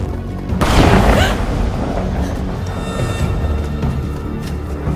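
A loud gunshot boom in The Quarry bursts out near the start and rings into a rumbling, tense game ambience that lingers at steady level for several seconds, with no talking.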